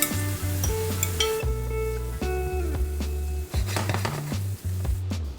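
Tomatoes and green onions fry in a pan, a close sizzle under frequent clinks and scrapes of a utensil stirring against the metal, with low tonal humming in the background throughout.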